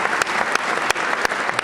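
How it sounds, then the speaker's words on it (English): Members of the House and Senate applauding South Carolina Governor Henry McMaster at his State of the State address, a loud continuous roar of clapping filling a large chamber with a few sharper claps standing out. "people of the House and Senate are applauding him"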